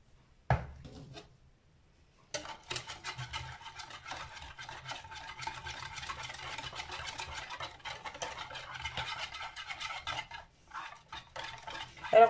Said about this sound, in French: je vais mélanger ça avec l'eau chaude